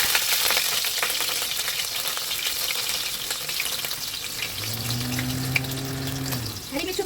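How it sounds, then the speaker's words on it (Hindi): Cumin seeds and green chilies crackle in hot oil in a kadhai for soybean dal, a loud steady sizzle close by. A short tonal hum rises briefly near the end. "जीरा डाल देंगे, इसको हम क्रैकल होने देंगे और उसके बाद आँच को मीडियम पे रखेंगे। हम हरी मिर्ची डाल देंगे।"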